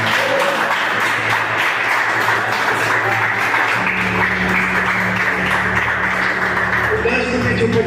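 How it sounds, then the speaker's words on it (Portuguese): A church congregation applauds at a men's gathering, broad clapping that stays loud throughout, with sustained low instrumental tones, likely organ or keyboard, droning underneath and shifting partway through. "Você pode aplaudir a Jesus?"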